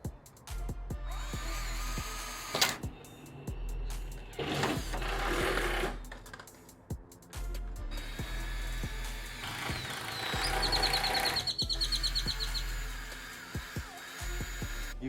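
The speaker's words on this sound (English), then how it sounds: "then just freehand that drill, and hopefully it works out pretty good" A power drill whirs in bursts, drilling bolt holes for a front splitter on a Ford Mustang, spinning up and down with pauses between, close by amid clanks and handling noise.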